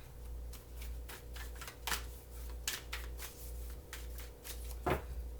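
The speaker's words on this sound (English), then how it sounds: "Three shuffles, please." Tarot cards are shuffled by hand close up in a quiet room, a run of soft riffling bursts and taps at irregular intervals over a low steady hum, with no talking.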